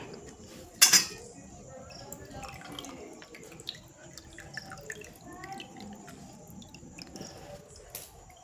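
Dishes and cutlery clink while fuchka is eaten with sour tamarind water, with one loud clatter near the start followed by soft scattered taps, drips and squishy sounds.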